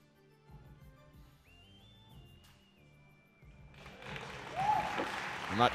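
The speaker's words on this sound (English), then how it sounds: "That cheer you hear in the background is Pishklov's support" Crowd cheering and applause build up at a snooker match in the 2022 European Open, swelling loudly in the last two seconds after a quieter stretch with a sustained tone and low murmurs.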